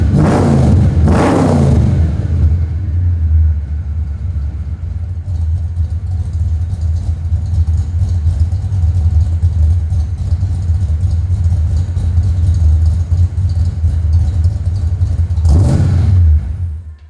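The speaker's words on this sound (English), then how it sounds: "one of my favorite sounding exhausts on a Mustang is a good set of turn downs" A Fox body Mustang fitted with MagnaFlow 2.5-inch stainless steel turn-down exhausts, heard up close with a deep rumbling idle, punctuated by a sharp rev at the start and another near the end.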